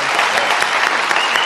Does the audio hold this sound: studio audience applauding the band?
yes